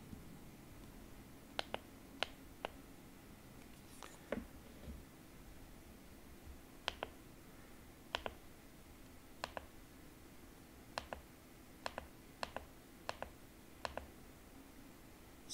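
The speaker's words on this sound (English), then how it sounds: "Now I'm clicking backwards and forwards." Vive VR controller buttons clicked repeatedly, a series of sharp, quiet plastic clicks at irregular intervals, some in quick pairs, over a faint background hiss with no talking.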